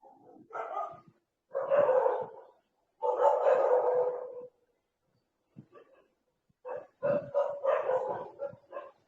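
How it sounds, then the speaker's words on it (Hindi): Dogs bark in repeated clustered bursts over an online class call, the yelps and woofs coming in several loud groups separated by short silences, with no talking over them. "पीछे से आपके कुत्ते भौंकने की आवाज आ रही है।"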